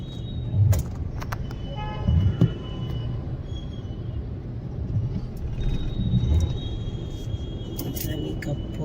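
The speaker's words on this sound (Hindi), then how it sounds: "ट्रैफिक में फंसे हुए हैं।" Road traffic in India rumbles steadily around a wedding procession stuck in a jam, with scattered car horns and low engine noise and faint voices in the background.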